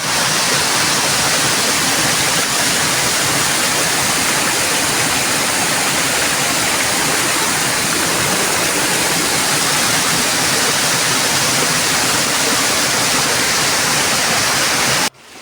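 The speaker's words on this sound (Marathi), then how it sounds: "फायनली मित्रांनो आपण धबधब्यावर पोचलेलो आहोत" A waterfall swollen and muddy with monsoon rain roars in a loud, unbroken rush of water, steady and close throughout before cutting off abruptly at the end.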